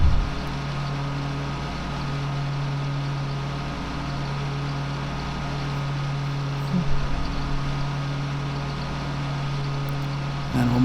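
A John Deere 648R mower runs steadily while cutting grass in a backyard corner near a trampoline, its engine drone loud and constant with a brief bump in the middle and near the end.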